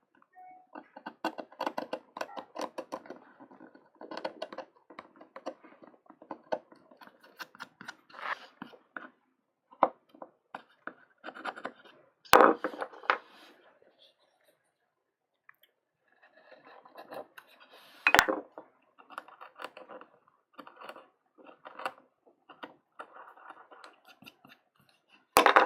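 A carving tool cutting registration marks into a woodblock for Japanese printmaking, heard as a long series of small dry scratches and scraping strokes in bursts, with occasional sharper knocks, close and quiet, with no talk.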